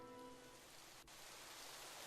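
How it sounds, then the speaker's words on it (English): Rain pelts the ground in the video game Psychedelica of the Black Butterfly, a steady, even hiss of downpour that runs unbroken for the whole stretch, with no voices over it. "I can hear the rain."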